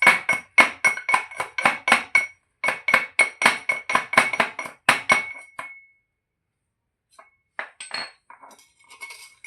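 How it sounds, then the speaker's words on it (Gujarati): Garlic pounded in a mortar gives a fast series of sharp, close, ringing knocks in a steady rhythm for several seconds, then a pause and a few softer scattered taps. "લસણ પહેલાં ખાંડી નાખશું અને પછી ભૂકો કરીને નાખી દેવાનો"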